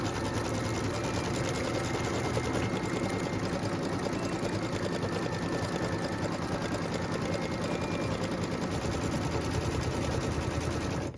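A sewing machine runs continuously at high speed, stitching a quilt piecing template, with a dense, even mechanical rattle close up and no pauses.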